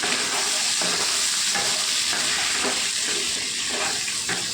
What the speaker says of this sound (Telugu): శుభ్రంగా కడిగేసి వేసేసుకుందాం. సరే, బాగా కలిపేసుకుందాం బెండకాయలు